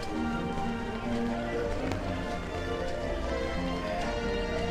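Steady rain falls across Disneyland Paris, a dense, even hiss of drops spattering on surfaces that continues without pause, with faint background murmur and no clear talking.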